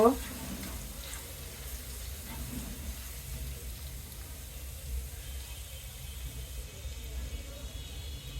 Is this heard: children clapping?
no